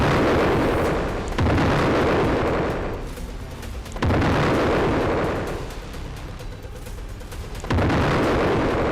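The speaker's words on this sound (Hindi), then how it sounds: "फिर एक के बाद एक कई विस्फोट होते हैं।" A B-1 bomber strike on trucks along a supply line sets off a series of heavy explosions. Three loud blasts arrive a few seconds apart, and each one fades into a long rumbling roar.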